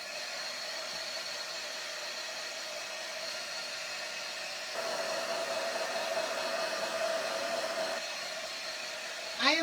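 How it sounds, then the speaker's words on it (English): Steady hair dryer roar blowing close and continuous over a fresh Fineline crackle finish on an aged craft project, growing slightly louder partway through, with a brief squeak at the very end. "I am probably overkilling it with a dryer"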